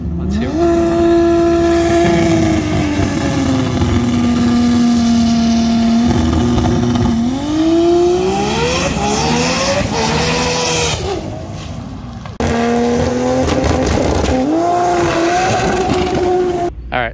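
Manual-transmission race car making a test pass on a track, loud close engine holding steady revs, then climbing and dropping through gear shifts, with a brief break before it pulls again.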